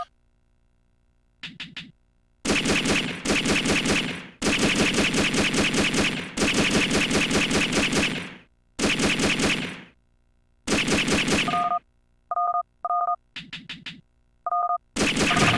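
Rapid bursts of gunfire from a player's primary weapon aimed at a Tomahawk drone in the PS2 game Robotech Battlecry, loud sustained volleys broken by short pauses, with a few brief electronic beeps near the end.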